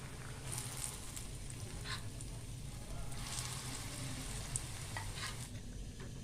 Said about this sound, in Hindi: अब इनको निकाल लेंगे और बाकी के फ्राई कर लेंगे।